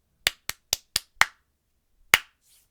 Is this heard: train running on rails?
no